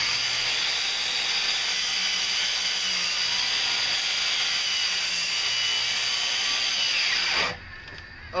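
A circular Skil saw cuts through wood with a loud, sustained high-pitched whine and hiss that holds steady for several seconds, then spins down quickly as the blade finishes the cut.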